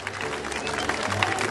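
An audience at a community radio gathering in Oaxaca breaking into applause, a brief dense patter of clapping from a crowd, with voices mixed in.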